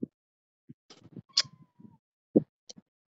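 A cat gives a few short, scattered meows and one drawn-out cry, each separated by near silence and heard close by.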